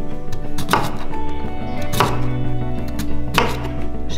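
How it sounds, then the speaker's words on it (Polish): A knife slices a white radish into rounds on a cutting board, three crisp cuts about a second and a half apart, each ending in a sharp knock on the board, loud and close over a steady background hum. "Kolejnym etapem będzie krojenie rzodkwi, czyli tej białej rzodkiewki."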